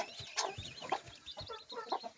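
A mother hen with two newly hatched chicks clucks close by in a series of short, irregular clucks and soft calls. No one speaks.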